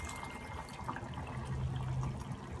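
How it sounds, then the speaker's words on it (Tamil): Coconut milk of medium consistency, about half a cup, poured into a simmering tamarind-based drumstick poricha kuzhambu, giving a steady liquid pour and bubbling for a couple of seconds with no talking. "ஒரு 1/2 கப் தேங்காய் பால் விட போகிறேன்"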